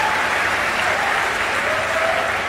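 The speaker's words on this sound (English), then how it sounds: "no, don't clap" Audience applause at a live conversation event, steady and dense crowd clapping filling the whole moment at close range, loud and continuous without a break.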